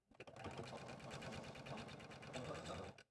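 A sewing machine stitches a felt squirrel's ear onto its background piece in one quick, continuous burst of rapid, even mechanical chatter, close and alone, stopping after about three seconds.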